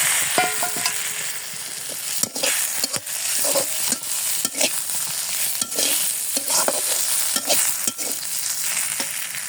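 Eggs sizzle in a pan over fried onions, a constant crackling fry broken by repeated sharp scrapes and knocks of a spatula stirring, close and fairly loud, with no talking.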